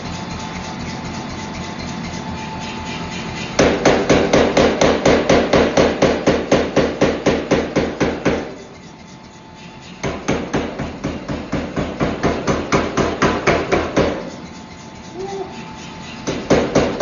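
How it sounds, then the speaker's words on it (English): Hammer blows on red-hot steel as a chef's knife is forged, loud rapid rhythmic strikes in long bursts with brief pauses between runs, no voices. "watching me mess around with this chef's knife and hit really hot steel"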